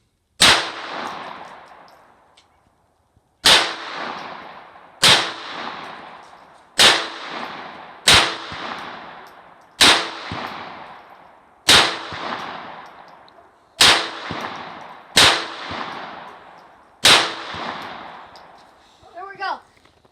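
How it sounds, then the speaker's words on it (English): A Ruger Mark III .22 pistol fires ten sharp, cracking shots after an opening pause, spaced roughly every one to two seconds, each with a quick echoing tail, close and loud. "Just shot that 22 pistol there. Just a Ruger."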